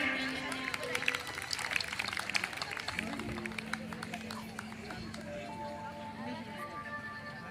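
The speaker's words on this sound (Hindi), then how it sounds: "जोरदार ताली बजाएं।" At the opening ceremony of a state judo tournament, an audience claps a welcome, a burst of scattered applause that thins out beneath speech and background chatter.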